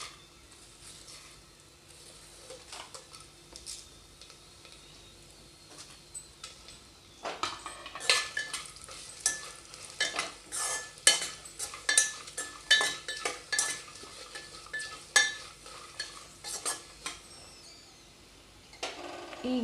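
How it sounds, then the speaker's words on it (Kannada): Whole spices dropped one by one into ghee in a pan for a festive Akshaya Tritiya dish, then stirred. Quiet at first, then a steady run of close spoon clinks and scraping against the pan. "ಈಗ ಖಡೆ ಮಸಾಲೆ ಒಂದೊಂದಾಗಿ ಹಾಕೊಳ್ಳೋನೆಲ್ಲ"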